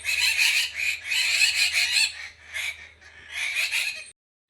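Small birds chirp outside a home in Jamnagar, a dense, close chorus of rapid high chattering in several long bursts with short pauses, ending in sudden silence.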